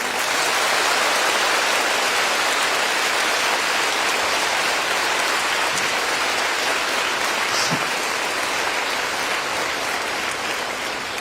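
A large audience at a Tamil speech keeps clapping for over ten seconds, a loud, rain-like roar of hands that stays steady and eases only slightly toward the end, with no speech.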